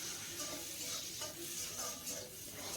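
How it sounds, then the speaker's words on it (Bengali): Chopped onions sizzle softly in hot oil in a pan while broccoli is being cooked, a steady, faint frying hiss with light stirring, no voices. "পেঁয়াজটা ভাজা হয়ে গিয়েছে আর পেঁয়াজের কালারটাও কিন্তু চেঞ্জ হয়ে গিয়েছে।"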